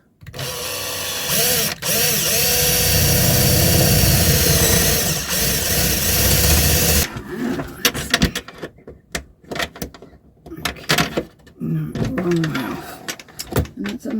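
A power drill with a large drill bit runs steadily for about seven seconds, loud and close, inside a caravan. It then cuts off and gives way to scattered clunks, handling noises and brief sounds of a person.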